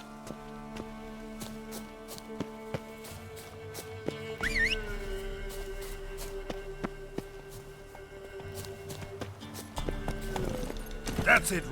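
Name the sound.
horse Roach clip-clopping in a video game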